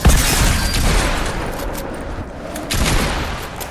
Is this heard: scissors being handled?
no